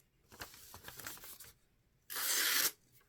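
Freshly unboxed Lothar Phoenix large tactical folding knife slicing through material in a cutting test, a soft scraping rustle followed by one loud, bright, sharp tearing swipe lasting about half a second, close and alone.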